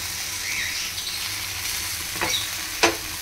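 Food frying in a hot pan, a steady soft sizzle with gentle stirring throughout and two sharp spatula clinks near the end, close and fairly quiet with no talking.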